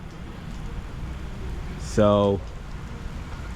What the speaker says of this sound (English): This is the first time I've ever done a video in the rain.